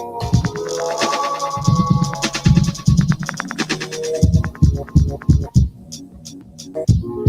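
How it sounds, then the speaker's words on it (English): Music treated with a delay effect, rhythmic notes repeating in echoing pulses, loud and continuous with choppy percussive hits toward the end. "All right, now put a delay."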